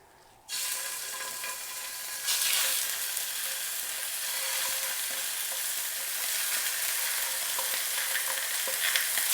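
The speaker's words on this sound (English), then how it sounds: "The last thing we need to fry is our chicken, and we're going to brown it off" Chicken pieces browning in a thin coat of oil in a frying pan give a loud, steady sizzle that jumps up as food hits the hot pan and keeps crackling without a break.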